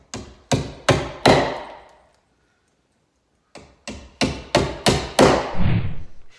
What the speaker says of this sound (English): It's just pounding nails.